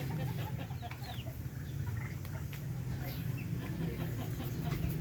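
A brooding hen on a backyard farm clucks softly in short, scattered calls over a steady low droning background.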